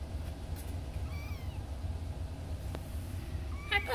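Foster kittens give a few faint, thin meows over a low background hum, with a brief louder cry near the end, quiet and close.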